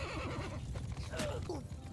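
Horses neigh amid the noise of a video game battle, with a whinny rising over busy background clatter and hoof-like clip-clop. A voice talks faintly underneath.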